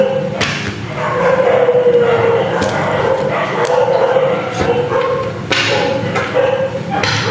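Several dogs bark continuously in the background, loud and busy, mixed with thumps and room noise, while a person talks over them.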